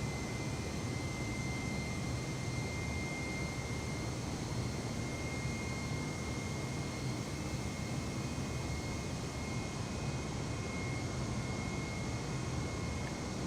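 Airbus A320 jet engines climbing out of Sheremetyevo, Moscow, a steady broadband roar with a faint high whine, unchanging and moderately quiet throughout, no voices.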